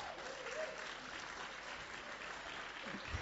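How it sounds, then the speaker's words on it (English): A congregation at a Thanksgiving church service applauds, a steady dense patter of many hands clapping, moderately loud and sustained throughout. "Let's give them a round of applause."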